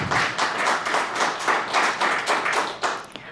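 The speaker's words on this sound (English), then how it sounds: "we usually don't allow clapping for our citizens' comments" Audience applause fills a school district governing board business meeting room, a steady, loud patter of many hands clapping together in close pulsing waves before tapering off near the end.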